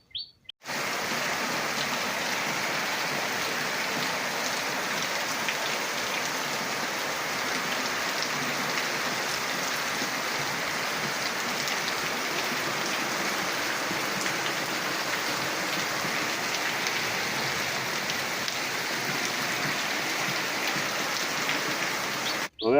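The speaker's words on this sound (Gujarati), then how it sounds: "આપણે પાળા નાખ્યા અને વળતેજી જ વરસાદ થયો છે" Rain falls steadily on an open farm field, a constant even hiss that holds at the same level from start to finish, with faint bird chirps mixed in and no talking.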